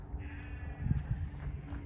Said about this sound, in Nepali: भेडाहरू कराइरहेको छ भ्या भ्या गरेर